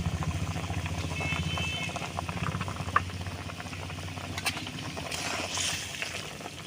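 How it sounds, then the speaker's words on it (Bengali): Potatoes boil in a pot of water seasoned with salt and turmeric, giving a steady, close bubbling and rumbling simmer that runs throughout without speech. "ওদিকে লবণ আর হলুদ দিয়ে আলুটা সিদ্ধ হতে থাকুক"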